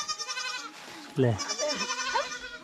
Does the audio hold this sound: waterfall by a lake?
no